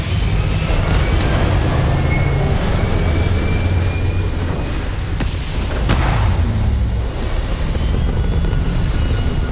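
Spaceship thrusters firing in the game Starfield: a loud, steady roaring rush of engine noise with a deep rumble that holds for the whole stretch, briefly swelling with a couple of sharper bursts near the middle, no voices.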